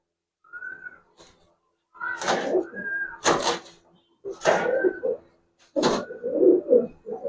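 Giribaz pigeons coo in a few soft, throaty bursts close by, separated by short pauses, with brief handling noises and no clear talk.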